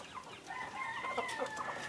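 Chickens cluck and warble softly together, a scattered chorus of fowl calls at moderate distance over faint background noise.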